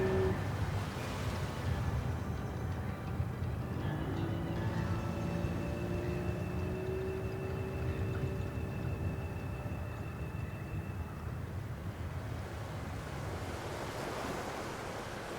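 Steady rushing water and wash from a boat cutting through wakes on the Chesapeake Bay, with constant wind noise and a low engine rumble throughout.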